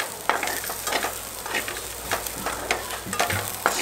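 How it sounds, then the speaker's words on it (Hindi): Sweet corn kernels fry in ghee in a kadai, giving a steady close sizzle broken by repeated stirring scrapes and clinks of the spoon against the pan. "यहाँ पे अपने स्वीट कॉर्न बन रहे हैं"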